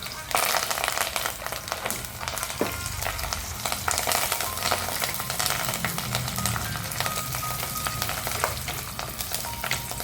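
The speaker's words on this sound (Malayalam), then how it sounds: "ഇനി നമുക്കിതിലേക്ക് കുറച്ച് കറിവേപ്പില കൂടി ഇട്ട് കൊടുത്ത് ഒന്ന് മൂപ്പിച്ചെടുക്കാം" Ginger, garlic and curry leaves frying in a pan for a prawn curry, a steady, dense sizzle throughout with occasional stirring scrapes.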